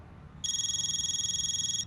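A telephone rings in the PC video game 15 Days, a steady electronic trilling tone that starts after a short quiet stretch and warbles continuously, fairly loud and alone.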